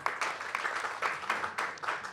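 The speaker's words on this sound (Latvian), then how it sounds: "Aplausi, jā, droši." Audience applause at a Latvian panel discussion on whether climate thinking is an elite privilege: a dense, steady patter of many hands clapping for about two seconds, moderately loud and without voices over it.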